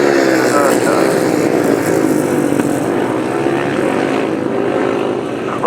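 Grasstrack solo motorcycles racing down the first straight, a dense, loud, continuous engine roar from several machines blending together, with a voice commentating over it.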